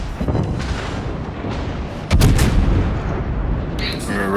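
Ship guns firing in a naval battle video game, a continuous rumbling barrage with a louder heavy boom about halfway through, while a voice talks faintly underneath.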